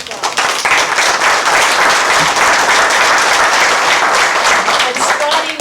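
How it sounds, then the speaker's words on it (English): An audience at a county commission meeting applauds emergency medical responders, steady and loud clapping filling the whole stretch with a faint voice or two underneath. "let's give them a round of applause"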